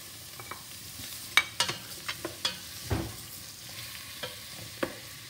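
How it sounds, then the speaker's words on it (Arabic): Onion frying in a little vegetable oil at the bottom of a cooking pot, with a close sizzle and a run of sharp clinks and scrapes as it is stirred. "حطيت جوست شوية زيت قطانية في القاع نتاع الطنجرة باش نقلي فيه البصل"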